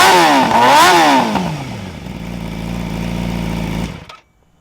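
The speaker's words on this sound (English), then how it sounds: "do a quick exhaust rev comparison, both of these bikes have a catless mid-pipe." A Yamaha YZF-R6 sport bike with a catless mid-pipe fires up and revs its exhaust sharply twice, rising and falling, then settles into a steady loud idle before cutting off abruptly.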